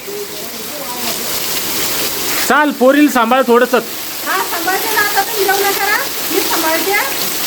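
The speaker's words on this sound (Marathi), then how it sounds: "पाऊस चालू आहे" Steady rain hisses in the background while people talk loudly nearby over it.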